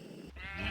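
A sheep bleats in a Minecraft modpack with Galacticraft, one short close call that swells and holds to the end, alone with no talk.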